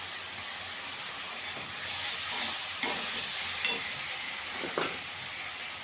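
Ground cashew and poppy seed paste goes into a hot pan for a chhana malai curry and is stirred. A steady hiss and sizzle runs throughout, with a few soft scraping strokes from the stirring.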